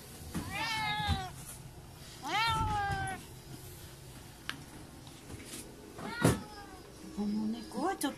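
A cat meows several times at close range, drawn-out rising and falling cries separated by pauses, with faint room sounds and a soft thud between.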